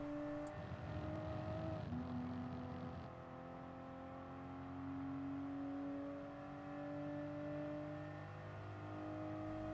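A Toyota GR Supra GT Cup race car at Red Bull Ring in Gran Turismo Sport accelerates hard, its engine note climbing steadily with a steady whine and shift, loud and close.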